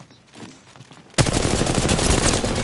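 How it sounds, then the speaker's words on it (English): Gunfire in the Apex Legends video game: after a quiet moment, a loud, sudden burst of rapid automatic fire starts and continues as a dense, sustained volley. "Oh, they're shooting at each other."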